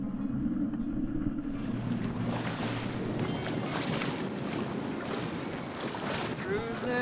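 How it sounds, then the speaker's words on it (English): A sailboat cruising at 6 knots under most of its head sail, with a continuous wash of water along the hull, wind buffeting the microphone and a low steady rumble throughout. "Cruising at 6 knots with just a little, well, maybe most of the head sail out, but not all of it"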